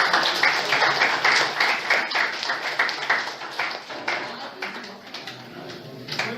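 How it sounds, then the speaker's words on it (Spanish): A room full of people claps steadily to welcome a family and community medicine doctor onto the stage, dense applause fading slightly toward the end with no one speaking. "Lo recibimos con un fuerte aplauso, por favor,"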